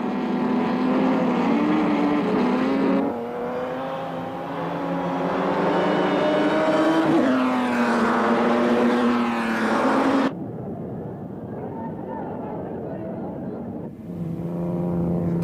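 1930s ERA racing cars on the Donington Park circuit in 1938, engines droning loudly with rising and falling pitch as they pass close by, a steady roar that shifts abruptly to a thinner, more distant note near the end.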